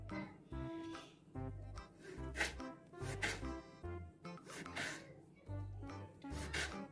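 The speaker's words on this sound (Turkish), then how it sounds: "ince ince doğruyoruz bir limonu." A knife cuts a lemon into thin slices on a board. Short, soft cuts repeat in an uneven rhythm, close and fairly quiet, with low thumps between strokes.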